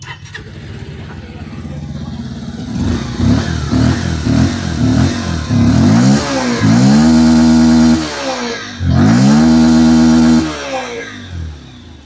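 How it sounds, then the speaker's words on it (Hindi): A 2024 Bajaj Pulsar 125 Neon Disc motorcycle engine idles with a throaty exhaust, then revs up sharply twice in loud bursts before settling back, close by. "अभी जस्ट आपने इस गाड़ी के एग्जॉस्ट साउंड को सुना"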